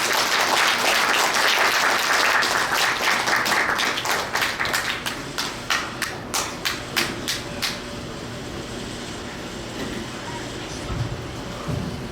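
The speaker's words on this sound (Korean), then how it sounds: "뜨거운 박수로 환영해 주십시오" An audience at a New Year lecture event applauds to welcome a speaker, dense clapping that thins into a few scattered, separate claps and then fades, leaving room noise.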